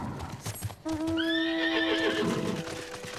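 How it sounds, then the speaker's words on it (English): A six-legged horse mount in Final Fantasy XIV gives a single loud, drawn-out whinny over soft, rhythmic hoof clops. The call rises and wavers for about two seconds, close and clear, with no talk over it. "I brought my shiny ass horse with 6 legs."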